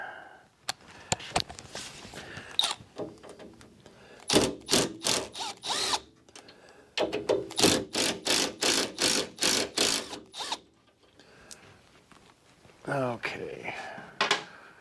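A power drill with a screwdriver bit works on Jeep parts, a hardtop prep job, running in bursts of loud whirring, a short one midway and then a long stretch of rapid pulses, with talk around it.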